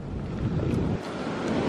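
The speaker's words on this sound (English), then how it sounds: "The waves just keep getting bigger and bigger and closer." Ocean waves surge and break on a sandy beach at Tenby in March, a continuous broad roar of surf and foam mixed with gusty wind buffeting the microphone, with no voices in this stretch.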